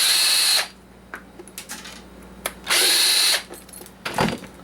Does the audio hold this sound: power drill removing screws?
yes